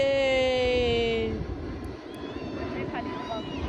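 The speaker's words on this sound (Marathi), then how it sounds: "वरून जातंय विमान" An airplane passes overhead near Juhu Beach in Mumbai, a droning engine tone that fades after the first second into a softer background rumble while people talk nearby.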